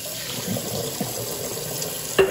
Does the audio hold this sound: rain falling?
no